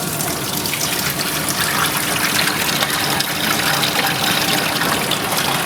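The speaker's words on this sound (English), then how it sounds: "make sure you have a large enough bucket to catch all the water. And then you want to just pull all 3 handles down." Water drains steadily from an OX-850 countertop frozen yogurt machine into a bucket, making a loud, continuous gushing pour close by with no pauses and no talking.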